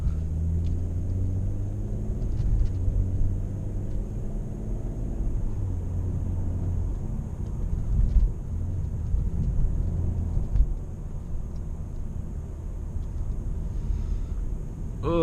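Steady, loud engine drone of a stage 2 tuned BMW M540i while driving, with low rumbling exhaust tone and a few brief pops or burbles scattered through, continuous from near the cabin, no talk.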